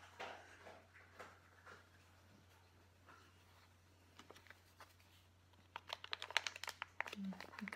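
A plastic sachet crinkles and rustles in brisk bursts near the end, close and fairly loud, after quieter handling noises and a faint steady hum.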